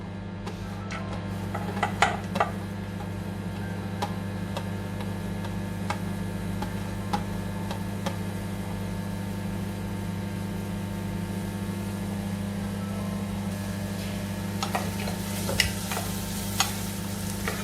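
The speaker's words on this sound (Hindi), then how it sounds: "इनको चलाना है, इनको ब्राउन होने तक की वेट नहीं करनी हमने, बस इनको गिनती के 1 मिनट थोड़ा पकाना है" Onions tossed into oil for instant noodles sizzle steadily throughout, with occasional scraping clicks of a spoon stirring the pan close by.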